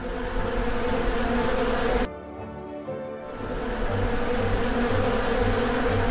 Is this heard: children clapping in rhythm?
no